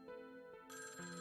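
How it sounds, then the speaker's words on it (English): A telephone rings in the video game Tokyo Babel, a steady electronic tone that shifts to a brighter, higher ring partway through, clear and uninterrupted. "The phone's incessant ringing wouldn't let up"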